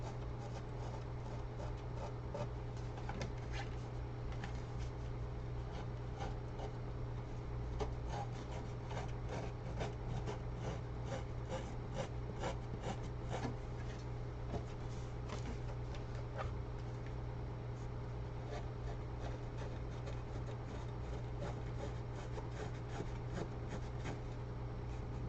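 Steady rubbing and rasping of a tool along the edges of a trimmed paper card, giving it a distressed look, close and fairly quiet, continuous with small scratchy strokes and no talking.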